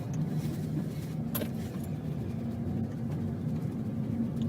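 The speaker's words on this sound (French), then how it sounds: "nous allons utiliser une 307 Peugeot DTCI turbo" A Peugeot 307 turbo diesel car produces a steady, continuous low engine drone throughout, with no talking.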